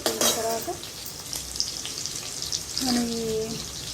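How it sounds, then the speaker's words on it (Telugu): Tender jackfruit seeds frying lightly in a pan give a soft, close sizzle with stirring, and a voice speaks briefly over the crackle. "కొంచెం లైట్గా వేపుదాము."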